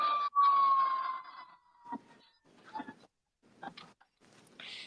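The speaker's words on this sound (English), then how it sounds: "Is that the sirens outside of my house or your house?" A siren wails briefly at the start, then fades into scattered distant sounds and short noises from outside.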